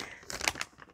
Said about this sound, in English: let's open it up. Crinkling.